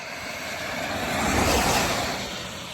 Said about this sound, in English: Waiting for these cars to pass by.